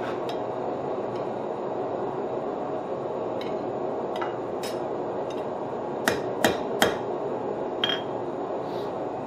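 A rivet is hammered while forging flat jaw tongs: a handful of sharp, ringing metal strikes land in a quick cluster over a steady background hum, preceded by a few fainter taps.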